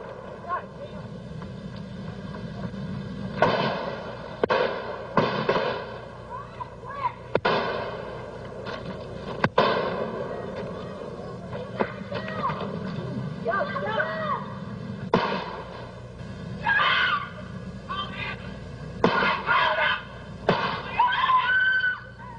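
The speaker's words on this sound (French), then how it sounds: "les deux hommes échangent 11 coups de feu" Two men exchange eleven gunshots on a road during a dispute, sharp loud cracks scattered irregularly across the scene amid voices and background noise.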